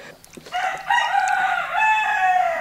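Rooster crows once in a rural village yard, a long, loud, drawn-out call that rises and holds, with a few faint clucks before it.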